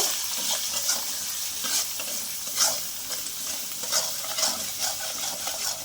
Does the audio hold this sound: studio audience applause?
no